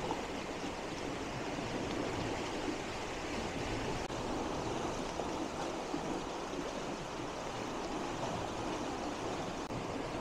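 Water running and trickling beneath a brick arch on a nature-reserve walk, a continuous broadband rush heard close without pause and with no talk.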